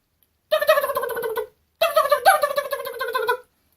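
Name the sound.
voice imitation of turkey gobble without cupped hands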